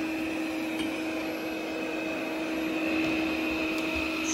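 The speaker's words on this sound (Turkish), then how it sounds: "Şu an maksimum emiş gücünde çalışıyor, 2700 Pascal ve sesi gerçekten az çıkıyor." A Robx R7 robot vacuum mop cleaner runs at maximum suction with a steady, even whir and a constant tonal hum, heard close and alone without any talking.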